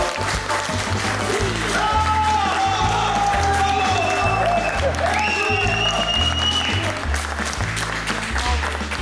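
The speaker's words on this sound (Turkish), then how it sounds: "Alkışlıyorum." A studio audience applauds on a Turkish television cooking competition show at a semi-final, the clapping steady and mixed beneath loud, upbeat music with a pulsing beat throughout.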